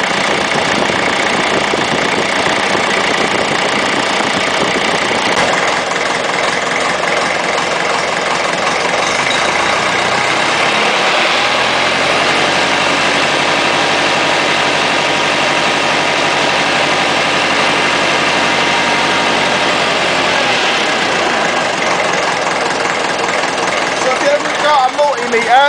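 Ferguson TEF20 grey tractor engine running close up, a steady mechanical rumble that rises in revs midway and drops back, with someone talking over it.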